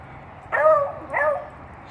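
A garden dog barks at a bird perched on a wire, two sharp, close barks about half a second apart in an otherwise quiet outdoor setting.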